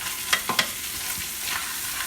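Spanish rice base for arroz con pollo frying in a pan while being stirred. A soft, steady sizzle runs throughout, broken by a few sharp scraping clicks of the spoon against the pan.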